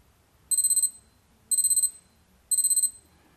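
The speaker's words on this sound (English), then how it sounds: "You can preview the alarm tone, which is different for 1 versus 2." A Citizen Attesa ATV53-2834 wristwatch alarm 1 tone: three short bursts of a high electronic beeping tone, each a quick rapid chirp sequence, evenly spaced about a second apart against near silence.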